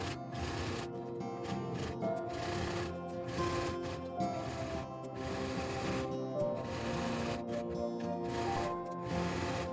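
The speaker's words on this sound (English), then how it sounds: "You're going to start there and sew all the way around, across the bottom of the outer fabric" A sewing machine stitching around the outer fabric of a quilted trinket dish made from charm pack pieces, a continuous whirring hum with rapid needle ticking, broken by brief pauses, close and steady with no voices.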